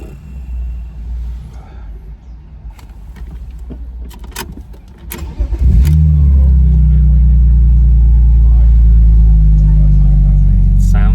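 A BMW engine with head gasket failure, overheating, idles loud and steady after a rough start, its low rumble uneven and lumpy, with some handling noises early on.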